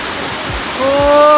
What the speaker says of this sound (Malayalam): എന്ത് രസാന്ന് നോക്കിയാ അവിടുന്ന് വെള്ളം വീണ